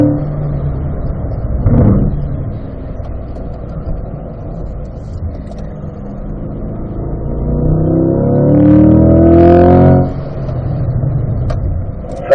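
A race car on track, its engine droning steadily while coasting, then swelling as it rolls back on the gas, rising in pitch and loudness near the end before dropping off.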